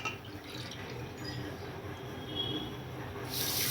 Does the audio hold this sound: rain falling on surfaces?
no